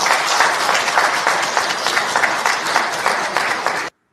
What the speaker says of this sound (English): Who are the people clapping for this man?